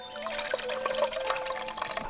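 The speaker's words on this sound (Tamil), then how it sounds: "இப்ப நம்ம ஊற வச்சிருந்த சோளத்தை நல்லா கழுவிட்டு தண்ணியை வடிச்சு எடுத்துடலாம்" Soaked sorghum grain washed in water and drained, giving steady close splashing, sloshing and trickling that runs on without pause.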